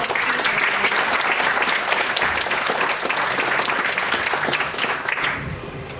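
An audience at a lecture on Kashmir at SOAS, London breaks into sustained applause, dense and fairly loud, which fades out near the end.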